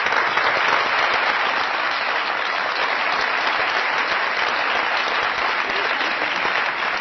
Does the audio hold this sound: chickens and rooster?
no